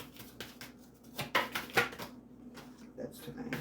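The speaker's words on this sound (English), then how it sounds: "Two more shuffles and I'll pull from the top." Tarot cards are shuffled in a few quick riffling bursts, soft and close, separated by brief pauses over a low background hum.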